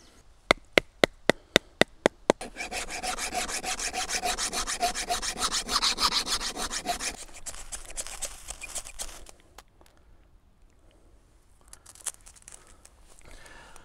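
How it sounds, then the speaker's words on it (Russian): A hand file scrapes along the spine of a cheap knife, starting with a few sharp taps, then a dense, close rasping run of rapid strokes that fades into lighter, scattered scraping. "Берем напильник и спиливаем обух."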